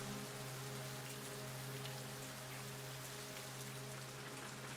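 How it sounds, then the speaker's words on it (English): Steady rain falls in the PS2 horror game Project Zero 3: The Tormented, a dense even hiss over a low sustained drone, with no voices. "it seems for Rei that rain will never stop."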